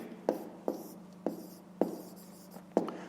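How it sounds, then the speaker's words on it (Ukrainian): A pen writes an inequality by hand on paper during a fifth-grade maths exercise, giving five short, close scratching strokes at uneven intervals, quiet, with no talk. "Нашу нерівність можна так записати, пишемо тоді."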